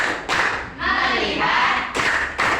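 A class of pupils performs the 'tepuk fokus' clapping routine, crisp bursts of group claps alternating with a short chanted phrase in unison, rhythmic and close.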